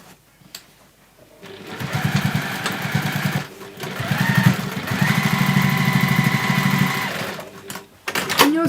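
A sewing machine stitching across a nested cork seam runs in a steady buzzing whir for several seconds, pausing briefly midway, with quiet handling noises before and after.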